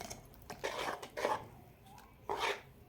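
A hand whisk mixes cooking oil into vanilla sponge cake batter in a bowl, giving soft, repeated scraping and swishing strokes in short bursts, close and quiet.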